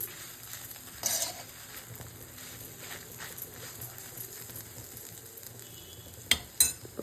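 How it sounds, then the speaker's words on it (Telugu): Chillies sizzling faintly in a pan while being stirred during preparation of an amla and coriander pickle, with soft frying hiss, a few scraping stir strokes and two sharp utensil clinks near the end. "ఒక్కసారి కలుపుదాము మిరపకాయలు కూడా వేగిపోయాయి"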